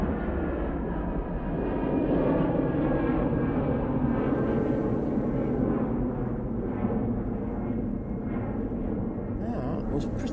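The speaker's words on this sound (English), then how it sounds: "That's off to Prague using their A320-200" An EasyJet Airbus A320-200 taking off at Manchester Airport for Prague, heard as a steady, fairly distant engine roar that holds throughout at moderate volume.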